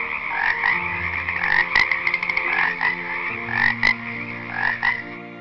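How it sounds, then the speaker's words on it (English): Frogs croak in a dense, continuous chorus of rasping, pulsing calls, loud and close, with overlapping voices rising and falling throughout, as part of a church Vacation Bible School program. "So God sent the second plague, a plague of frogs."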